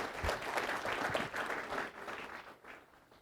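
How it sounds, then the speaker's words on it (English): Audience applause at Bellflower's 2014 State of the City address: a dense, steady wash of clapping that holds for several seconds and then thins and fades near the end. "I think that is an applause that we need to give the city of Bellflower."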